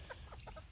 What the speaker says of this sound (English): That is the newer rooster.